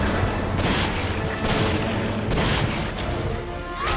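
Deep booming TNT explosions in Resident Evil 6, set in China, loud rumbling blasts swelling and decaying one after another in a thick continuous roar.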